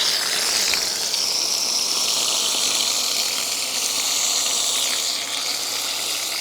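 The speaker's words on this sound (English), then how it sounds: "So let's rinse this radiator out." Garden hose flushing a fully clogged car radiator, a loud continuous rushing spray of water heard close up for several seconds without pause or talking.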